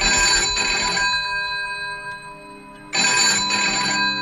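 A telephone rings in loud bursts, two long rings separated by a pause of near silence, with no voices.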